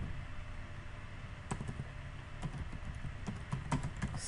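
Keys clatter on a computer keyboard in scattered bursts, quiet and close, over a faint steady background hum.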